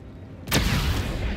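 Sudden explosion in the Star Wars Outlaws video game, a sharp loud blast about half a second in followed by a sustained rumbling roar that carries to the end.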